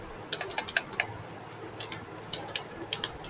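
Quick, light clatter of computer keyboard keys as code is typed, heard in two short bursts separated by a brief pause, close up and fairly quiet.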